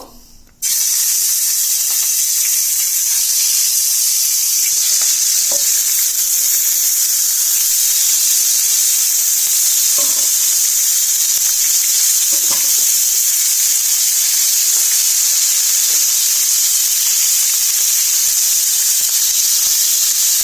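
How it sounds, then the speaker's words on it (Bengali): Katla fish pieces, heads included, fry in hot oil in a home kitchen, a loud, steady sizzle and spatter that rises suddenly and carries on unbroken, with faint stirring knocks underneath. "এখন মাছগুলো আমি ভালো করে ভেজে নেব।"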